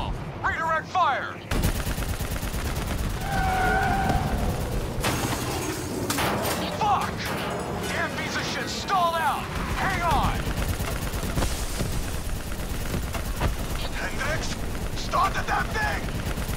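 Gunfire in Call of Duty Black Ops 3, sustained rapid automatic bursts and heavy shots in a noisy battle, with shouted voices and mechanical clanks mixed in throughout.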